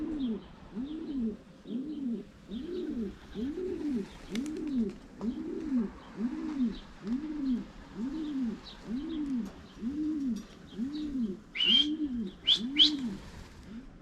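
Pigeons coo in a steady, repeating rhythm, soft and close, with a few bright chirps from other birds near the end.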